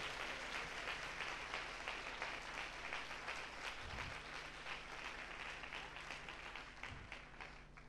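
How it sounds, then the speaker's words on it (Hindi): Congregation at a church worship service clapping loudly, a thick continuous wash of many hands with steady rhythmic accents running the whole span, set back in the room with a faint low hum beneath. "तो जोरदार तालियां बजाइए"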